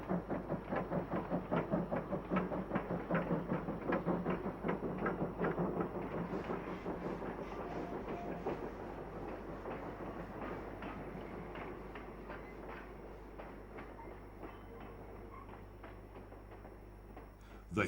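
A Hunslet 260 saddle tank steam locomotive of 1902 hauls a Sunday passenger train over the Randfontein Estate gold mine railway, with a steady rhythmic chuffing and wheel clatter that fades slowly as it draws away.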